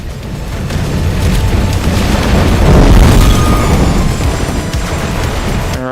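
Spread bombs in the Twisted Metal 5 fan game set off a continuous roar of booming blasts that swells toward the middle of the stretch. The explosions overlap densely with no pauses, loud and close.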